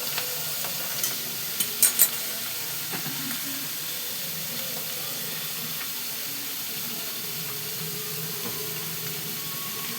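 Prawns and garlic frying in a pan for prawn egg chow give a quiet, steady sizzle with soft hiss, broken by a few sharp clicks and light spatula taps early on.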